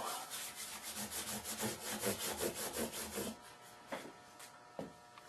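Micro mesh abrasive paper rubs back and forth over the fret tops of a Gibson Les Paul guitar, making quick rhythmic scratchy strokes close up, then a pause broken by a few faint scrapes and taps.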